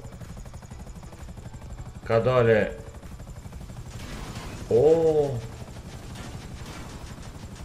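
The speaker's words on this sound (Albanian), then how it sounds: "Ka dale, ndalo helikopter, Ndalo" A steady rotor drone from a helicopter in the video game GTA 5 runs underneath as a man exclaims loudly twice over it.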